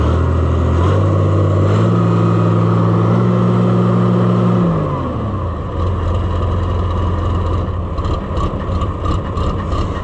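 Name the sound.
Oliver 1655 diesel tractor engine idling erratically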